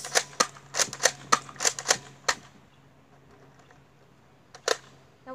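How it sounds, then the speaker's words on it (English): A Nerf N-Strike Elite Surgefire blaster is slam fired, giving a fast run of about nine sharp plastic snaps over two seconds, then a pause and one more loud crack. "Now, let's test out slam fire."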